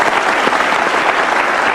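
Loud, dense applause from a television talk show studio audience, a continuous close wash of clapping with no pauses.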